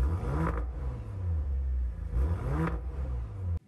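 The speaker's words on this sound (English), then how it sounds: "And this one, since it has the dynamic package, gets the sport exhaust." An Audi RS5 with the dynamic package's sport exhaust and massive oval tips is revved twice, each blip swelling into a loud, deep roar before settling back to a throaty idle, then cutting off abruptly.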